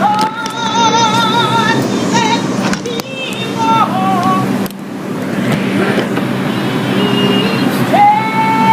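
A New York subway 5 train pulls into a station, its steel wheels and brakes giving off high screeching, whining tones over a steady low rumble, with voices faintly audible in the background.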